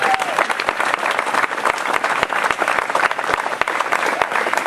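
A crowd at a Leadership Morgan Hill tribute event applauds warmly, a thick, continuous wash of clapping hands with sharp individual claps popping through, holding steady for the whole stretch.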